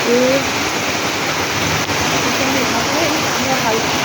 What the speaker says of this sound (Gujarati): તમે ખાલી વરસાદ જુઓ